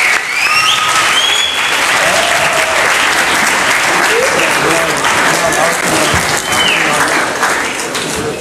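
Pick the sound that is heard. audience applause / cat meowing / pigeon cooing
audience applause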